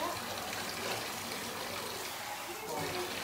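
Water trickling and splashing off an AussieDoodle puppy's legs as they are wrung out after a bath, a soft continuous wet hiss, fairly faint, with people talking nearby.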